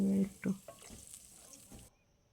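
A curry in a pan sizzles loudly as water is poured in, then the frying hiss settles into a softer, fading bubble before cutting off.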